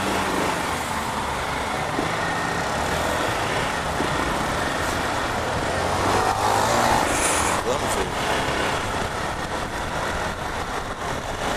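City street traffic heard from a Honda Falcon NX4 motorcycle, a constant roar of engines and road noise with wind rush, passing cars swelling and fading, while a rider talks over it.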